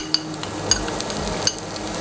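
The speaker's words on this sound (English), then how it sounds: "And let this saute for a minute." Chopped ginger and garlic sauté in a small pan of hot oil, giving a soft steady sizzle broken by three brief sharp clinks of a utensil against the pan, close and moderately loud.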